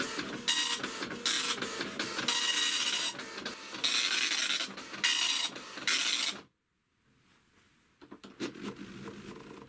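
A dot matrix printer attached to a ZX Spectrum prints in rapid buzzing bursts with rhythmic head passes, loud and close, then falls briefly quiet before a softer resumption.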